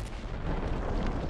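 A loud, rumbling explosion bursts out in The Ascent, a sci-fi action game played on PS5, filling the brief moment with dense booming noise and no voice over it.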